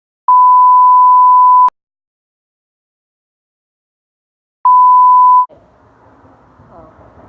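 Two electronic phone beeps, each a steady tone lasting over a second, separated by a few seconds of silence; a faint low background murmur follows the second beep.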